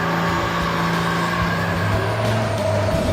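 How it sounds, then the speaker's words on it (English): Ram truck engine at a drag-racing event roars and revs hard while smoking its tires: a loud, sustained, throaty drone with steady harmonic buzz that holds for the full stretch. "Is this what the Ram truck sounds like?"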